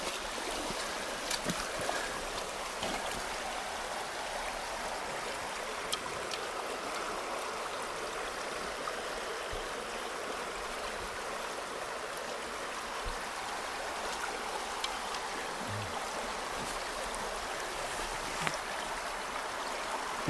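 Steady broadband rush of a stream flowing in Idaho, continuous and moderately loud throughout, with faint trickles and small splashes near the water's edge while fly fishing.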